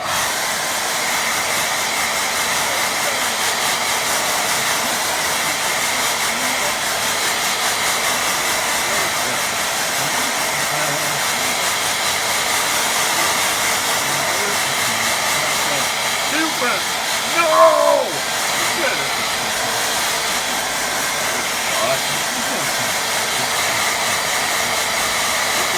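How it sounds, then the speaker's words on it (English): A hair dryer blows steadily over a watercolour painting of hills and pines, a continuous close broadband whoosh lasting throughout, with a brief bump of handling noise partway through. "I'm going to blow dry that now."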